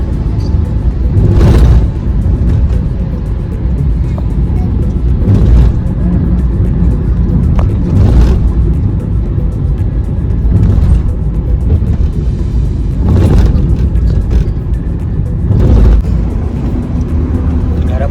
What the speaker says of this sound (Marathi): गाडी 75 किलोमीटर चालली आहे